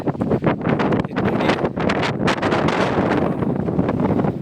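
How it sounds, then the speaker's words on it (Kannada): Strong wind gusts buffet the microphone on a hilltop, a loud continuous roar with rumbling surges and brief dips, no voices heard. "ಹೆವಿ ಗಾಳಿ ಇದೆ ಸೊ ಅಡ್ಜಸ್ಟ್ ಮಾಡ್ಕೊಳ್ಳಿ ವಾಯ್ಸು ಏನಾದರೂ ಬ್ರೇಕ್ ಆಗ್ತಿದ್ರೆ"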